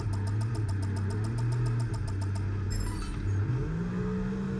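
Formula 1 race car engines in the F1 24 video game hold a steady high drone as the start lights come on, then surge and climb in pitch as the cars launch off the grid.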